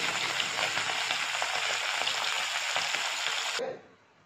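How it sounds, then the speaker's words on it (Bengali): Hilsa fish pieces frying lightly in hot oil give a steady, loud sizzle with crackling pops that runs for about three and a half seconds, then drops away abruptly to near quiet. "দেখো মাছটা ভেজে দিচ্ছি, একদম হালকা করে ভাজবো।"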